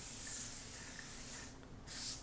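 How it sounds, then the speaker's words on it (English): Cooking spray hisses steadily onto a foil-lined baking rack over a pan, a close continuous spray with a brief dip before a final burst. "One thing I want to be sure to do is spray my rack."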